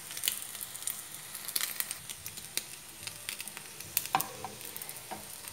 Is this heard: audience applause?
no